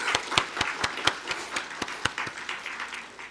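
Rhythmic unison clapping from a church congregation at a New Year family dawn prayer service, evenly spaced sharp claps in a steady beat with faint crowd murmur behind.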